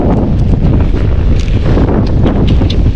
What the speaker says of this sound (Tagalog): Grabe naman kasi yung hangin. Lakas eh.